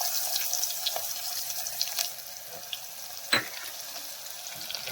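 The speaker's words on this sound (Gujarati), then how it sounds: "અને આપણે ડુંગળીનો વઘાર કરી દઈશું।" Chopped onions sizzle after going into hot oil already seasoned with mustard seeds, cumin and asafoetida, giving a steady close hiss broken by a few sharp crackles, with no voices.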